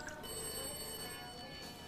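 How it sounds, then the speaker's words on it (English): A telephone rings in a quiet domestic setting, a steady electronic bell tone over a faint background hum, with no voices during the ring. "Phone!"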